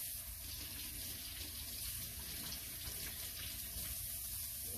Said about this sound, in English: Let me just rinse my hand off.